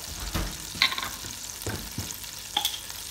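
Butter and a dab of garlic sizzling in a soup pot, a soft steady fry with occasional scrapes and clinks of a spoon stirring, close and moderately loud.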